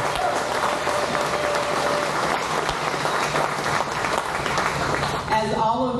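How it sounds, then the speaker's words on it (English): Indoor audience applause at a Harley-Davidson dealership anniversary memorial gathering, steady dense clapping filling the room throughout at moderate loudness. "Give Kevin a round of applause"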